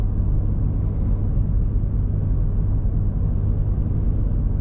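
Steady low road rumble and light wind noise inside a 2021 Ford F-150 cab while towing about 6,000 pounds downhill, a constant muffled drone with no voices.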